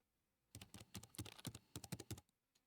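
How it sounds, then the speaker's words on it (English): Rapid keyboard typing in the video game Mirage Noir: a dense, uneven run of crisp key clicks that starts abruptly, pauses briefly, then ends with a couple of final taps, with no voices. "Sammy's typing away on his keyboard, headphones on."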